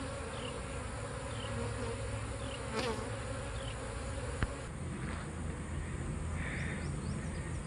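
Steady droning buzz of many honey bees around a hive, continuous and fairly close, with a faint high tone running throughout.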